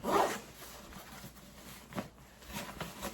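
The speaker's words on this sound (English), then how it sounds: "this is just a nice L-shaped zipper." An L-shaped zipper on a hunting backpack is pulled open with a quick rasp, followed by a couple of shorter zip strokes, close and fairly quiet.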